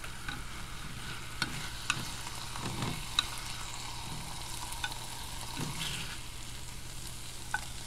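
Small breakfast steaks sizzle steadily in a pan, a soft, constant frying hiss with occasional pops and faint scraping of a utensil, heard close up with no talking.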